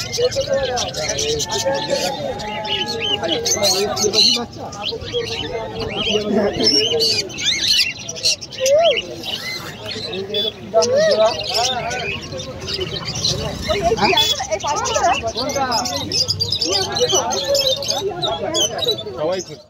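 Busy outdoor scene at a Rath Yatra festival in Mahishadal, with several birds calling and chirping, some whistles resembling a parrot, over steady crowd chatter and background noise.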